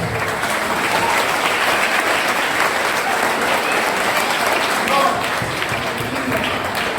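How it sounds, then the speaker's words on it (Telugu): Audience at a National Youth Sunday church gathering applauding, a dense, steady wash of many hands clapping at once, loud and continuous for the whole stretch with no clear shared rhythm. "మన క్లాప్స్ ఎలా ఉండాలి? Youth claps."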